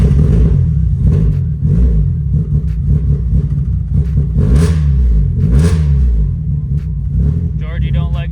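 A Mazda Miata engine, apparently fitted for a budget turbo build, runs loud and rough through the whole stretch with rising and falling revs, while a person talks over it.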